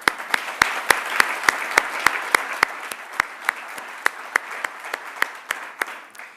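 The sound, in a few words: applause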